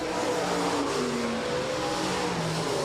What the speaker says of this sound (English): Heat races underway for our 5th and final class here tonight, the USRA Stock Cars